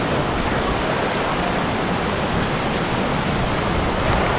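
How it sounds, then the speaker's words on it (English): Dense, loud, unbroken rush of creek water near a jungle waterfall in Davao, Philippines, a steady roaring wash that fills the whole clip with no voices. "We're literally in a sapa. This is a creek."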